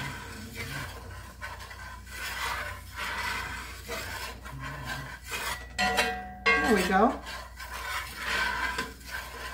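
A metal utensil scrapes rhythmically across the bottom of a pan in repeated rasping strokes over a sizzle. Someone speaks briefly partway through.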